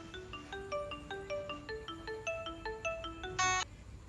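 A phone rings with a bright, melodic ringtone, a quick run of repeated electronic notes that ends in a short buzzy burst, fairly soft and heard on its own.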